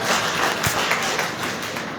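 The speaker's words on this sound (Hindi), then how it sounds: "तालियों से इनका स्वागत।" Audience at a Hindi book launch and award ceremony gives a steady round of applause welcoming a guest to the stage, a dense continuous patter of clapping filling the whole moment.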